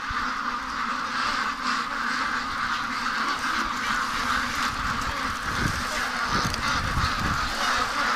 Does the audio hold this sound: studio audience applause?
no